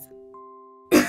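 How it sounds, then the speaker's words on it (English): A cartoon character coughs once, a short loud burst at the end that cuts in over a soft held musical tone, with no speech. "Otto has a cough."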